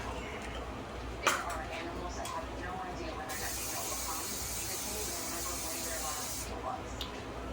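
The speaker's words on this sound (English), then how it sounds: "I'm gonna spray the iron skillet" Cooking spray hisses steadily onto an iron skillet for a few seconds against a low background rumble, with a brief knock just before it begins.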